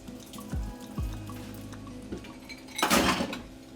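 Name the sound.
iced water poured over spinach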